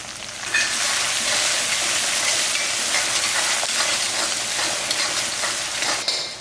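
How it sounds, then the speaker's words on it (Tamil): Chopped tomato and onion sauté in a pan, giving a dense, steady frying hiss that starts abruptly and stays loud and close, with occasional faint stirring scrapes. "இந்த தக்காளி எல்லாமே நல்லா வதங்கிடணும்."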